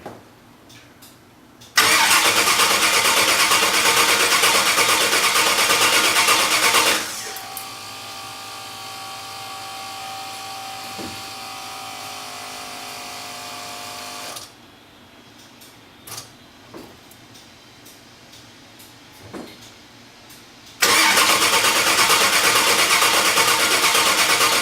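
An engine cranks and fires, then runs loud and steady, shifts to a lower, quieter idle with faint knocks, cuts out briefly, and roars back up near the end; no one speaks over it.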